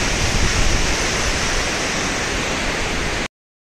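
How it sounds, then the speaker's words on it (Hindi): Roaring water of a mountain stream in Azad Kashmir, a dense, loud and constant rush of white water close by that continues unbroken until it cuts off abruptly near the end. "ये पानी का शोर इंतहाई ज़बरदस्त"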